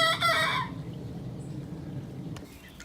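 A backyard rooster crows once, a loud harmonic call in the opening half-second, then trails off into quiet outdoor ambience.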